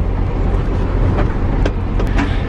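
An overnight bus in Malaysia, heard from the upper deck, gives off a steady, loud engine rumble and road noise, with faint clicks and clatter over it and no talking.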